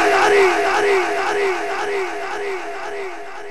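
A large gathering chanting religious slogans like Nara-e-Takbeer in unison, loud rhythmic call-and-response shouts repeating about every half second, tapering slightly in volume toward the end.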